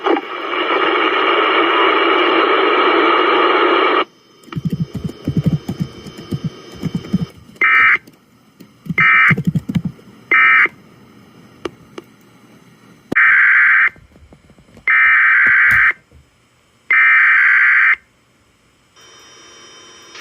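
NOAA weather radio emergency alert test, a loud continuous tone at the start, then short bursts and longer beeps of the alert signal separated by silences.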